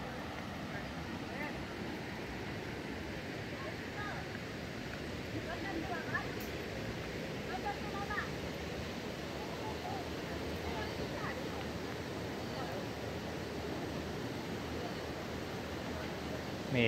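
A river flows steadily nearby, its broadband rushing wash continuous and even for the whole stretch, with faint scattered sounds on top.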